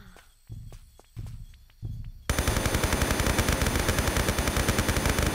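Gunfire in the video game Tomb Raider III: a few spaced single shots with echoing tails, then a loud sustained burst of rapid automatic fire that keeps going to the end.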